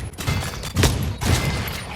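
Full-auto bursts from an AK-pattern rifle in a shooter game: two or three heavy, booming volleys of fire blur together in a dense, loud wash, with no talk.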